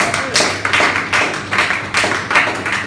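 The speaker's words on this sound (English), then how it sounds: "Give him a round of applause." An audience applauds a comedian performer, loud close clapping in rhythmic bursts, with a faint voice beneath.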